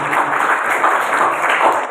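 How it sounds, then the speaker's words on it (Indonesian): An audience at a school seminar on religious moderation breaks into steady, dense applause that stays loud and even throughout the short stretch, with no other sound standing out. "Tepuk tangan untuk Indonesia."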